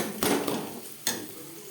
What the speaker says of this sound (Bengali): মশলার সাথে গুঁড়ো মশলা বেশ ভালো করে মিক্স করে দেবো